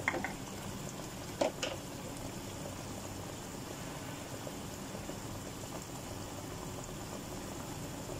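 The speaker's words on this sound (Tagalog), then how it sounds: "Ayan, kumukulo na nga kaagad." A low, quiet bubbling rumble of water boiling in a pot before fish is added, with a couple of brief clinks near the start.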